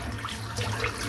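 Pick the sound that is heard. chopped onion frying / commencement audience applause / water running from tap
water running from tap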